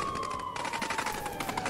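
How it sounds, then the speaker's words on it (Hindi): Ukrainian army machine gun fire at Russian drones, rapid bursts of shots crackling over a steady wailing siren tone throughout, all fairly distant and noisy. "यूक्रेनी फौज ने मशीन गन से अंधाधुंध फायरिंग की।"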